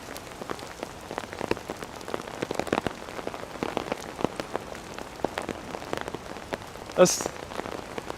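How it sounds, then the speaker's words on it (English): Hail falls on a New York City street and an umbrella overhead, a dense continuous patter of small tapping impacts, close and steady throughout, with a louder burst near the end. "Oh my god, it's hailing. Little like tiny little pebbles."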